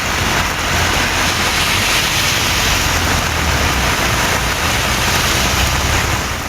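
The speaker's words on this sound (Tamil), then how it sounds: "இடியுடன் கூடிய மிதமான மழை பெய்தது" Moderate rain falls steadily across a hilly area, a dense continuous hiss with a low rumble beneath it. No distinct thunderclap stands out, and no one speaks.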